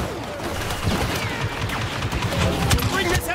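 Rapid gunfire aimed at an AT-AT in Star Wars Battlefront II, dense overlapping shots and battle noise throughout, with voices calling out over the combat.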